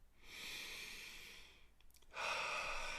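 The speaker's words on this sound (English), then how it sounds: "Just one good breath after another." Slow, deep breaths drawn close to the mic, each inhale and exhale a long airy rush with a short pause between, the final breath loudest; no talking.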